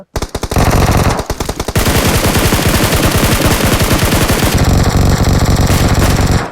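Automatic machine-gun fire from the video game PUBG Mobile, loud and close: short bursts open, then a long sustained rapid volley runs for several seconds before tapering off.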